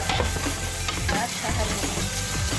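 Spices and tomato fry in a hot pan for Arabian chicken machboos, a steady loud sizzle under repeated scraping stirs of a utensil, close up, with no talking.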